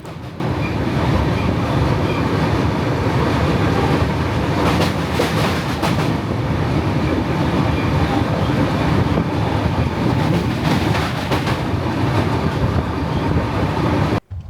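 A train runs steadily on rails near Vijayawada, with a continuous rumble and rhythmic clatter of wheels, heard from close by without talk.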